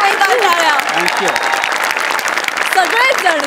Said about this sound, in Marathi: तुम्हा सगळ्यांसाठी स्वतःसाठी जोरदार टाळ्या.